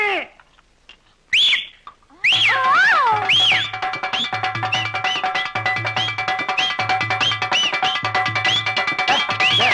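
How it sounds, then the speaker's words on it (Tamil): A person whistles in a Tamil comedy scene, giving bright, sliding whistle calls repeated in a steady rhythm over a pulsing low beat, loud and close, after a few brief whistles at the start. "விசில் அடிக்காதடா"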